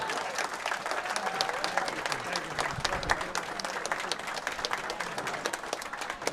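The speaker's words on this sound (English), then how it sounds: "So how about a round of applause for Bart and Marilyn Medeiros?" An audience at a bowling event broadcast applauds Bart and Marilyn Medeiros, a sustained, even roar of many hands clapping for several seconds with faint crowd murmur beneath.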